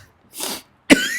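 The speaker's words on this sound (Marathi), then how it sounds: "खोकला काय माहिती अचानक मला सुरू झालेला आहे" A woman coughs twice in quick succession, close and loud, with a short breathy first cough followed by a sharper, harsher second one, and no talking.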